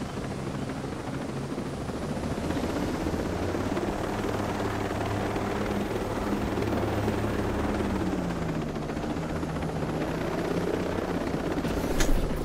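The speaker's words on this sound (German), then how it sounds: "Nein, der Heli geht kaputt." Helicopter in a video game, a continuous loud rotor thrum and engine drone that holds steady throughout with little variation.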